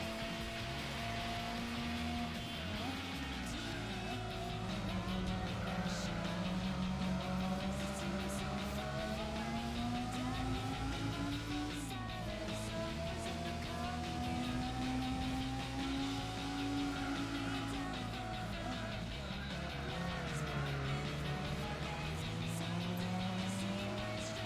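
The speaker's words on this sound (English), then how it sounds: "I don't know what to make of the engine note in this car." Car engine in the video game Gran Turismo 4, an oversteering car with an unusual engine note, droning steadily and rising and falling in pitch through gear changes and revs, quiet and continuous.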